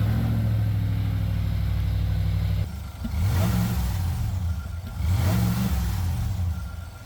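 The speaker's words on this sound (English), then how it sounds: "Now let's see if she fires up." Newly supercharged Cadillac Escalade with a fresh exhaust idles loudly, then its V8 revs twice in quick succession, each rise in pitch swelling and falling back to a steady rumbling idle, heard up close.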